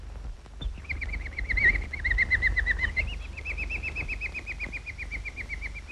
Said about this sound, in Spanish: Con el pájaro. Le estoy enseñando a silbar.